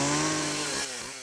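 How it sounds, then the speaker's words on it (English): Chainsaw running at steady high revs while cutting an H into an apple held in someone's mouth, a loud close buzzing whine that dips slightly near the end. "a chainsaw."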